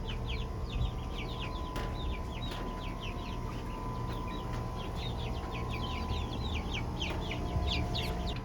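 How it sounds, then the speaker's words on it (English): Silkie chickens cluck and chirp steadily in a backyard coop beside a garden bed, a busy run of short, soft calls over constant outdoor background noise. "It's our silky chicken coop with its own garden bed."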